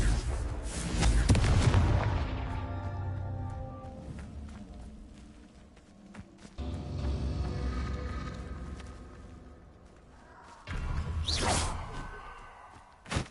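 Confringo fire spells cast in the Hogwarts Legacy video game, heavy booming blasts with whooshing bursts, a loud cluster early on, another rumbling stretch in the middle and a sharp blast near the end.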